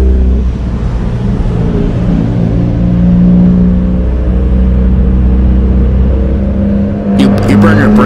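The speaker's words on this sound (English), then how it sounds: "I just downshifted." Manual car engine in traffic after a downshift, a steady close droning hum under a driver's talking voice, with a brief clatter near the end.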